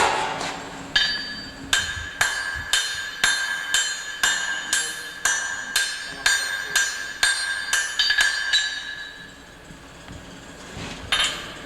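A blacksmith's hammer strikes a flatter laid on tool steel, ringing out in an even series of about sixteen sharp, bright metallic blows, close and clear with no talk, before the strikes fade and one last hit sounds.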